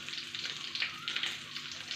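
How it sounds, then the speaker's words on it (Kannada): Curry leaves and dried chillies frying in hot oil in a pan, giving a steady close sizzle and crackle with small pops, heard alone without talk. "ಇವಾಗ ಕರಿಬೇವಿನ ಸೊಪ್ಪು ಹಾಕ್ಕೊತಾ ಇದ್ದೀನಿ. ಇದು ಸ್ವಲ್ಪ ಫ್ರೈ ಮಾಡೋಣ."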